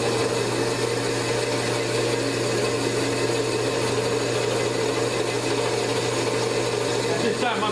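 Boring machine cutting a motorcycle cylinder, taking metal off the bore: a loud, continuous mechanical whir and grinding hum held steady throughout, with no pauses.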